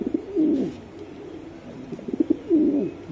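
Racing pigeons coo in soft, low, throaty rolling calls, two clear phrases with quieter murmuring between, close by and without talking.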